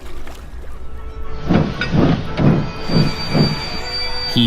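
A steam engine pulls away with a string of freight trucks in a dockyard, giving a rhythmic series of about five chuffs that start slowly and build a little. A rumbling background and a faint whistle-like tone run underneath.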